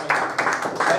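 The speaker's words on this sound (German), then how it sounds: "Kleiner Applaus für ihn" Short burst of applause from a small audience at a prize draw for a 2018 community football cup, a few quick uneven clapping bursts close by with a voice briefly audible.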